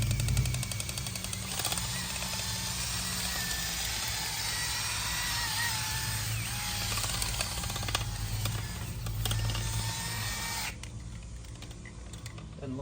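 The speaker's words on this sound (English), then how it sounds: "Start your drill and just start going." A power drill spins a long-handled brush through a dryer vent line, giving a loud, steady whir with scraping rattles that runs unbroken for about eleven seconds before cutting down sharply.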